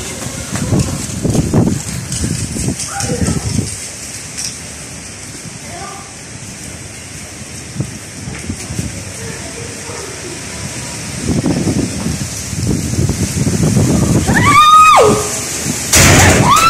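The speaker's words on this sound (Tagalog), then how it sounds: "Ayan na po, umuulan na." Rain begins during a sandstorm in the United Arab Emirates, a soft patter and spatter under wind, with excited voices talking over it throughout and a few sharp pops and thumps near the end.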